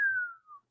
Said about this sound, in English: The only problem is Zora is the one who was whistle speaking.